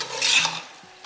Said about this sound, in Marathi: आता हे छान परतून घ्यायचं आहे आपल्याला.